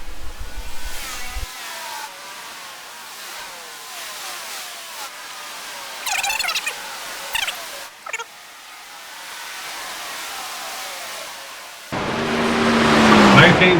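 Truck engines roar in a NASCAR truck racing video game at a race restart, a steady loud drone with revving surges and passing whooshes, building to a louder, harsher burst near the end.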